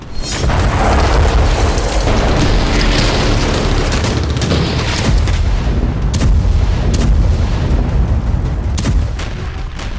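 Artillery shelling in Donetsk during the war in Ukraine, heavy booming blasts and rolling rumble that fill the clip, loud and continuous with sharper bursts toward the end.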